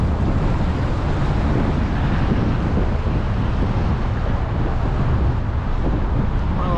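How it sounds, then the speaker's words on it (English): Strong wind roars steadily across the microphone during an outdoor e-bike ride, a loud continuous rumbling buffet that fills the whole stretch with no voices. "it is windy out."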